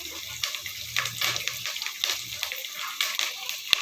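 Curry leaves dropped into hot oil for a poha tiffin give a crackling, spitting sizzle with rapid pops and sputters, close and fairly loud, ending in one sharp snap.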